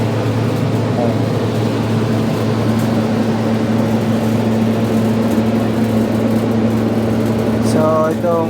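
Noisy fan running in a ship's vegetable cold room, a steady loud drone with a constant low hum throughout, with a person talking over it.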